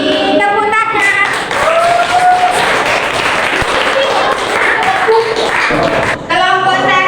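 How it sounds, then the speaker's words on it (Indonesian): An audience claps after a class presentation at a teacher performance test, loud and dense applause under talk that runs over most of the clip. "Tepuk tangan."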